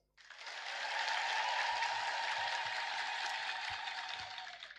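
A church congregation clapping in honour of the Virgin Mary, a broad wash of many hands applauding together, steady and somewhat distant, rising quickly and holding for several seconds.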